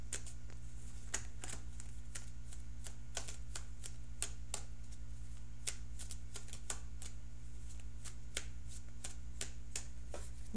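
Tarot cards are shuffled and pulled by hand, giving a steady series of crisp, close riffling snaps and flicks, about two per second, over a low constant hum with no talking.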